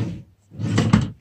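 A desk drawer, the bottom one still bearing stickers, slides open or shut with a short close scrape and thump, a brief pause, then a longer rolling slide ending in a knock.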